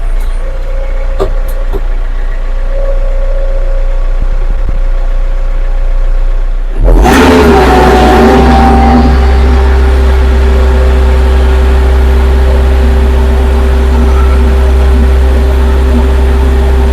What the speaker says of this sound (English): I knew that tractor would pull it out